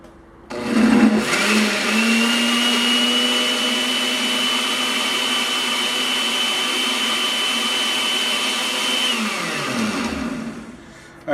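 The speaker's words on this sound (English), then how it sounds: "blend this stuff up" A kitchen blender whirs loudly and steadily, blending cooked garlic and habaneros fresh off the stove, starting up abruptly and running at an even pitch before winding down.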